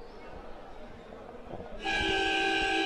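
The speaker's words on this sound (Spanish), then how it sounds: "La bocina que le avisa a los muchachos de que tienen que venir para jugar los últimos 6 segundos del tercer cuarto" A loud, sustained arena horn during a national-tournament basketball game between Italiana of Charata, Chaco and Alma Juniors of Esperanza blares suddenly over crowd murmur and holds steady, calling players back for the final seconds of the third quarter.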